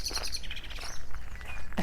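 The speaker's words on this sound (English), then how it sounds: "a few blackbirds" Soft blackbird song with high, thin chirps and warbling phrases, heard faintly at a distance over quiet outdoor ambience in New Zealand.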